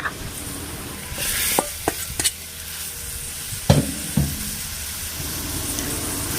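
Thai rice noodles (khanom jeen) being stir-fried in a reducing sauce in a pan, a constant sizzle broken by several sharp scraping and clattering strokes of the spatula, close and moderately loud.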